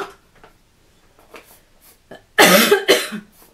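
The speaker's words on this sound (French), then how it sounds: "Et moi, à chaque fois, ça me fait tousser." Two loud, close coughs in quick succession near the end, following a quiet stretch with faint rustling.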